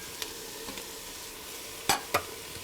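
Vegetables sauté gently in a pan without browning, a soft, quiet sizzle running steadily with a few sharper clicks of stirring.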